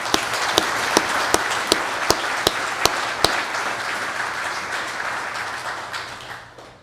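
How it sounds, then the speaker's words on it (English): An outdoor crowd at a village celebration applauding a pipe and drum band, a steady wash of clapping punctuated by a series of sharp evenly spaced drum hits early on, then fading away toward the end. "let's give them a round of applause"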